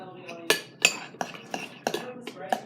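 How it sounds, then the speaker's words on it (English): Fluffy slime being mixed in a bowl with a utensil: a series of sharp clinks and taps against the bowl's side, about six or seven strikes at an uneven rhythm, close and distinct, with no voice. "now you're just going to mix it all up"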